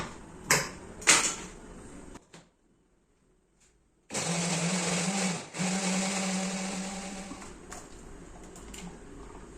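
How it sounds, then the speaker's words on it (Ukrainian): A few brief knocks and a short silence, then a blender chopping onion roars into steady high-speed whirring, dips briefly, and keeps running loudly. "Далі ми перебиваємо цибульку на блендері."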